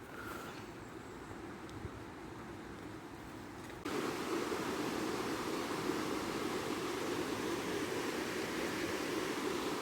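The Water of Leith flows past a city walkway as a steady, broad rush of river water that swells noticeably louder partway through and continues evenly, with no voices.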